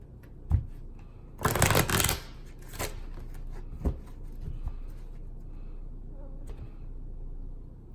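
Tarot cards are shuffled in a quiet room: one brief riffling burst of card flutter, then a few soft taps and shuffles as the deck is handled.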